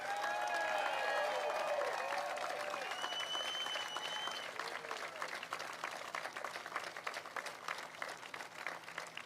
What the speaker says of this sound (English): I want to give Weldall Manufacturing another round of applause, would you?